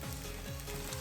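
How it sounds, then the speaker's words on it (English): Cabbage stir-fries in a hot pan, giving a brief, steady sizzle and crackle at low volume without any voices. "When the pan is hot, add the cabbage and stir fry it."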